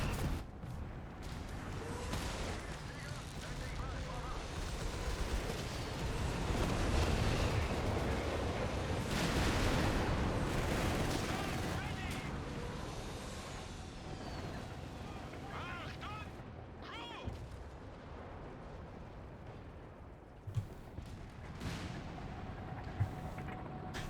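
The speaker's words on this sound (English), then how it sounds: "I'm pretty sure I'm going to order one of my Nebel Warfers to barrage the victory point" Rocket artillery barrage from Nebelwerfers in Company of Heroes 3, a dense rumble of overlapping blasts and detonations building through the middle and thinning out, with scattered gunfire and a voice talking over the battle.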